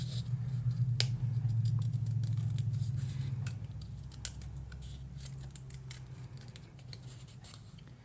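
Scissors snipping through sticker paper while making a greeting card, a close series of small crisp cuts and snaps scattered irregularly over a low steady hum, with no voice.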